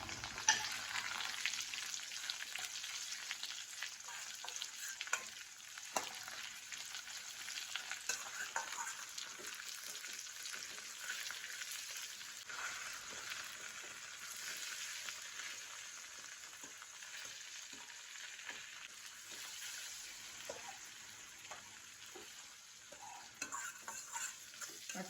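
Chopped tomatoes fry with onions in oil for Madurai-style mutton kuzhambu, giving a steady soft sizzle throughout with occasional stirring scrapes and taps, and no talk.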